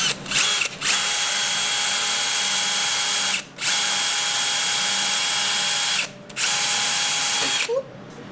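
A power drill runs on a car engine while a power steering pulley is fitted, whirring in three long, loud, steady bursts separated by brief pauses.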